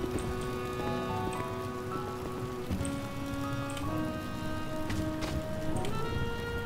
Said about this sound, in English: Yeah, at least the rain won't get you.